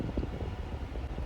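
Steady blowing air from a car's air conditioning, a constant low whooshing rush close by with no voices.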